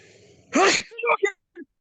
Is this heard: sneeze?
yes